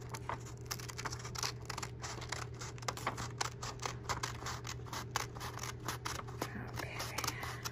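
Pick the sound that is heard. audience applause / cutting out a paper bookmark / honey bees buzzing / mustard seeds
cutting out a paper bookmark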